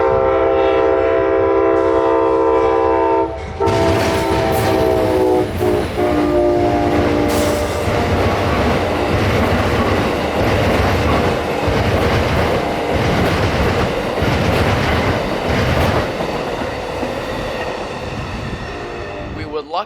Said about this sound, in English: we catch Amtrak train number 92. The Silver Star headed back north to New York